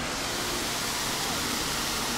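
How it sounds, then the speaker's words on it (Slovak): A Las Vegas fountain shoots grey water from showers and sinks up to about 70 metres into the air, producing a loud, continuous hiss of rushing, splashing spray that fills the scene. "strieka tu do tuším až 70 metrovej výšky voda zo sprchy a umývadiel"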